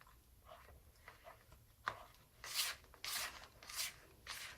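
Spatula scraping the sides of a mixing bowl of cheesecake batter by hand, soft rhythmic rasping strokes, faint and close, growing into several brisker scrapes toward the end.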